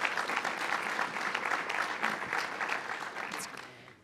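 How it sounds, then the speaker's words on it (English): Audience at a Vancouver urban planning lecture applauds a teaching prize winner, steady moderate clapping from a room of listeners that tapers off toward the end. "So we have to clap for that because that's a very big deal."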